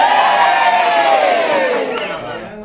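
An audience at a live comedy-podcast tour stop, standing with books in hand, cheers and whoops loudly in a dense, continuous roar of many voices. It fades slightly toward the end, with no clear applause claps standing out.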